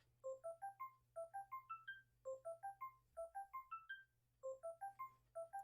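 A phone rings in the video game DDLC Blue Skies, a Natsuki route. The electronic ringtone repeats a quick rising run of chirpy tones in steady bursts, clear and alone.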